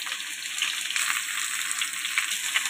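Vegetables including drumsticks, pointed gourd and ridge gourd frying in oil for Bengali shukto, a steady close sizzle that carries on unbroken throughout.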